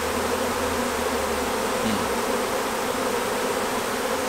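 Dense, steady buzzing of many honeybees swarming close by a hive in an urban garden, continuous and loud with no voices.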